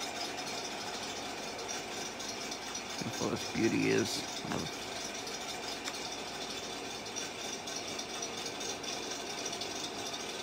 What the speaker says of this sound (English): Look at that, the engine even bounces up and down,